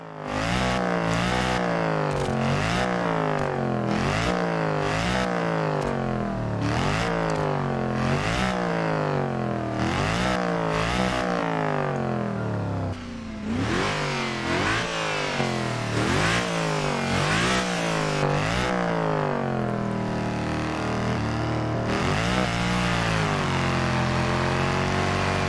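A Mercedes C63 AMG Black Edition with a 6.3-litre V8, driven in Forza Horizon 4, revs hard in repeated rising and falling sweeps, loud and close throughout with no talking.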